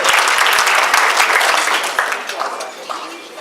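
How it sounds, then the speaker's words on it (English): An audience at an NAACP Freedom Fund gala applauds loudly as a singer comes to the stage, a steady wash of clapping that gradually fades toward the end. "please give her a well-due round of applause as she comes to the stage"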